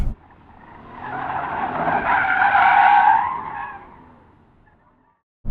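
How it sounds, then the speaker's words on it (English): A 2018 Kia Stinger in rear-wheel drive drifts, its tires squealing in a long, rising skid that swells over a couple of seconds and then fades away, fairly loud and with no voices. "But we were like really drifting in the rear-wheel drive."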